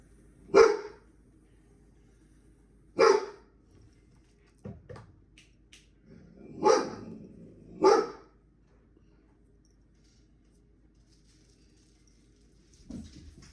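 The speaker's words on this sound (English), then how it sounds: "He's gonna be barking every once in a while." A dog barks in short, separate bursts, a few single woofs spaced several seconds apart with quiet gaps between, moderately close.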